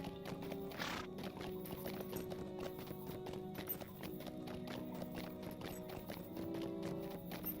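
Horse hooves clip-clop in a steady walking rhythm in Lord of the Rings Online, mixed with game music and ambient sound at a moderate level.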